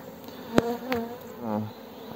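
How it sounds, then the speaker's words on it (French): Honeybees buzz close by at a hive entrance in February, in short passes, a few loud whirring fly-bys rising and fading against a quiet background hum. "Là on voit encore une fois les abeilles qui rentrent du pollen."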